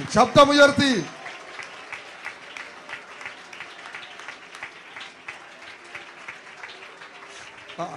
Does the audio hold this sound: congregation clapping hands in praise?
yes